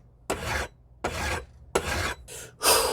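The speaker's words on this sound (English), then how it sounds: "Now we're going to spend some time in just filing this right here and getting these nice and flat right up to the" A hand file rasps across a metal jewelry hinge to flatten it, four or five distinct back-and-forth strokes, close and crisp with short pauses between.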